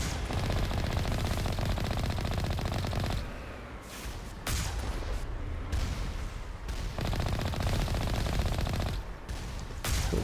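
Turrets in Mass Effect fire heavy, continuous automatic bursts that stay loud and close, broken by a few brief pauses before the firing resumes.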